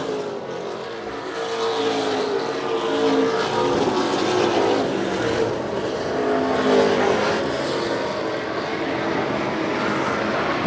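Race cars roaring around an oval track during a stock car race, a dense, continuous engine drone from several cars at mid distance, swelling slightly as the pack passes, with no talk.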